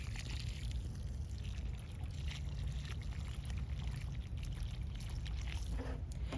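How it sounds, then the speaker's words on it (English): Freshly planted gladiolus corms get a thorough watering, a soft continuous spray and patter of water on soil, steady and close, with a low rumble beneath and no voices. "water your freshly planted corms, gladiolus corms, thoroughly, which is exactly what I'm going to do right now"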